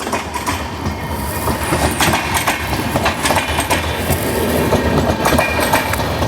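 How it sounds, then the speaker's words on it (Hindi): Devagiri Express pulling into Pune station behind a WP7 locomotive, a loud, continuous rumble and rhythmic clatter of wheels on rails that holds steady throughout, with no voices. "पुणे WP7 के साथ अराइवल हुआ है देवगिरी एक्सप्रेस का।"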